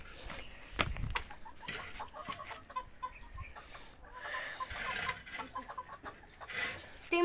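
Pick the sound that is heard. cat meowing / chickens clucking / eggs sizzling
chickens clucking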